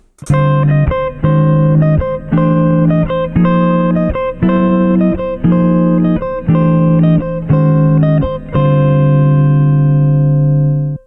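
On guitar, a chromatic series of minor 11th chords rises and falls as about nine evenly spaced, sharply attacked chords, loud and close, ending on a longer ringing chord.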